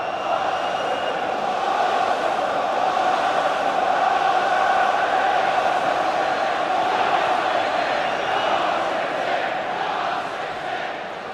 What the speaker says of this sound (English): Good crowd here